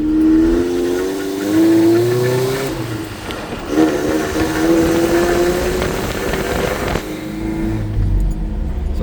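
A 1985 Toyota 22RE truck in first gear through a Flowmaster muffler: a loud, continuous engine drone with a rising and falling whistle-like tone over a deep rumble, steady throughout with no voices.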